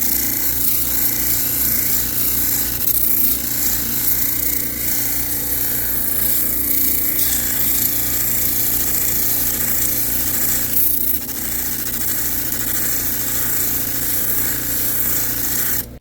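Power sander with 100 grit sandpaper working a heavy 15 pound agate limb cast, a steady, loud abrasive whir and rub that runs continuously throughout with no talk.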